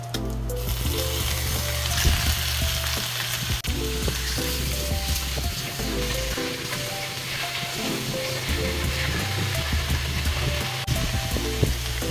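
Pork frying with onion in a pan for adobo, giving a loud, continuous, close sizzle with faint scraping from stirring. Steady background music runs throughout.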